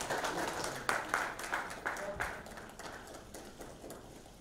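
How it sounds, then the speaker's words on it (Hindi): Scattered hand claps from an audience at a poetry album launch, a handful of distinct claps in an uneven rhythm that trail off, heard faintly and at a distance. "तालियों से, please."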